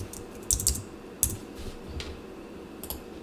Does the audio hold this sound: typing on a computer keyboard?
yes